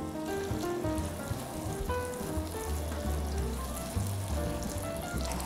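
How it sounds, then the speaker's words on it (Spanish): Chicken frying in hot oil in a pan for rice with pork ribs and shiitake, a steady dense sizzle with rapid crackling spatters, close and continuous without talk. "Es el momento de añadir el pollo."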